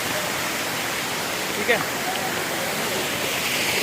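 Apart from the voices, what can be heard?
natural waterfall on the Kedarnath trek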